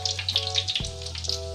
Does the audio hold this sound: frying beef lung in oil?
yes